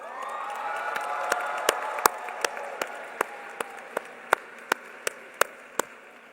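Family members at a high school graduation ceremony cheer and applaud, a steady crowd roar that slowly fades while sharp, evenly spaced claps ring out over it.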